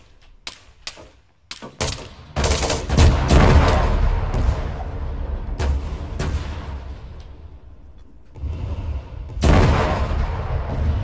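Gunfire in Arma 3: a few sharp single shots, then heavy sustained booming rounds and rapid fire, loud and close, with a brief lull before another heavy burst.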